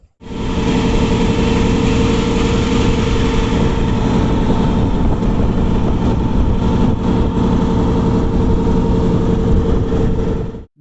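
Motor boat engine running steadily on a boat trip out from Gupti toward Habalikathi in Bhitarkanika, a loud, continuous droning hum with no breaks and no talking.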